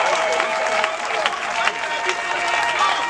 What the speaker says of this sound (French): Et je vous demande d'applaudir encore et encore et encore.